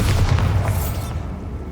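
A Bombarda spell blast in Hogwarts Legacy: a loud, deep booming explosion at the start that rolls off and fades over the following second.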